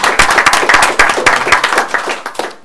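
Board members and attendees at a school board meeting clap in applause for a re-elected district representative, a close, loud burst of individual hand claps that thins out and fades toward the end.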